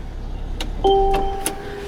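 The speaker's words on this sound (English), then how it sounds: "Will chime reminding you to remove the key" A 2017 Mercedes-Benz GLC 43 AMG gives a short electronic key reminder chime inside the cabin. It is a clear tone lasting about half a second, followed by a brief higher beep over faint background noise.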